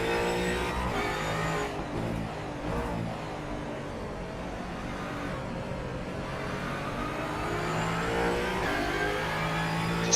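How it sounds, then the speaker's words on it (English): A GT race car engine revving hard with paddle-shift gear changes, heard from the cockpit as a continuous high, harmonic whine rising and dropping between shifts. "gear changing, paddle shift change on the GTs"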